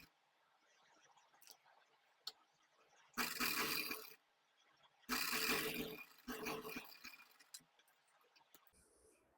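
Lace stitched onto cloth for a floor-mop cover design, with two loud bursts of sewing-machine stitching separated by pauses, among quiet handling noises.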